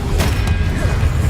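Expelliarmus disarming spell cast in the Hogwarts Legacy video game: a heavy low rumble with two quick bright bursts near the start, loud and close.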